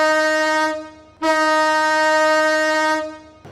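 A train at a railway platform sounds a loud, close horn in two long blasts, the first cut off after about a second and the second held for nearly two seconds before fading.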